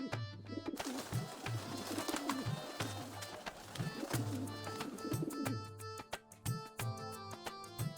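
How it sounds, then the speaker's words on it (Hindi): Pigeons coo indoors in a house, a repeated rhythmic throaty cooing heard up close, with background music playing over it. "आंटी जी आपने कबूतर पाल रखे घर में?"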